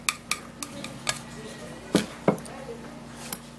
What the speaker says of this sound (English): and now time to stir. We're gonna be stirring the 4 ingredients together.